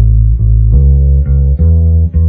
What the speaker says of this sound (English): Probably the most popular blues bass line is definitely the root,